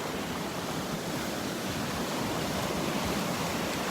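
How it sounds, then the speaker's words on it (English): Small, gentle Gulf Coast waves wash steadily onto the beach at Delnor-Wiggins, a continuous soft surf hiss with no distinct breaks, close by and even in level throughout. "Trying to take advantage of these little waves"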